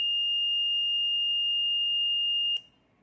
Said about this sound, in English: supply off, buzzer on.